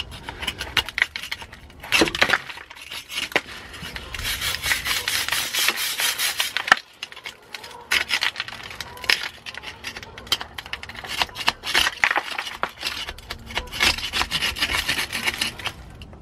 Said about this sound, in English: just going to start off scraping some of this flaky stuff off and then stack it with the brush